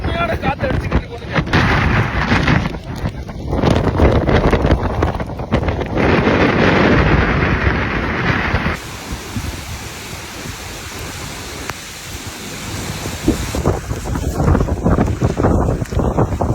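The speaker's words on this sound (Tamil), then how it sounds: "காத்து வந்து பாம்பன் பாலத்தில் அடிச்சு கடுமையான காத்து அடிச்சுக்கிட்டு போகுது." Strong storm wind buffets the Pamban bridge by the sea, a loud continuous roar with gusts thumping the microphone, easing somewhat midway before building again.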